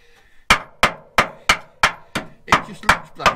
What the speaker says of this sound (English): that dung noise is the end of that spike digging into the undersill